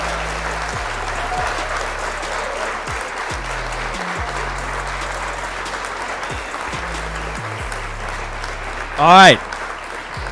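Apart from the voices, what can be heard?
applause sound effect played for the Xbox community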